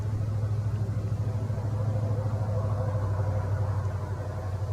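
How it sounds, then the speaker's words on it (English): A big four-wheel drive truck rolls along a road near woods, its deep engine rumble steady and droning throughout, echoing among the trees at a moderate distance with no voices. "whenever these big four-wheel drive trucks go down the road, it echoes throughout the woods where I'm at"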